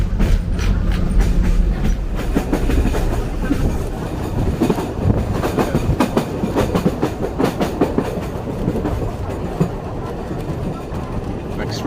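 Sóller train rolling through mountain countryside, loud and close with steady rhythmic clickety-clack of wheels over rail joints and rumbling carriages throughout.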